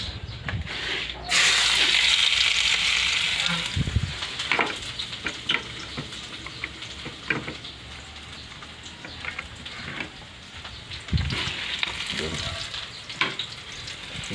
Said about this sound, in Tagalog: Lutuin na naman natin ngayon yung sibuyas.